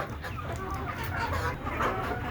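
Several native desi chickens on a rooftop cluck and murmur nearby in a continuous, busy chatter, with no clear pauses.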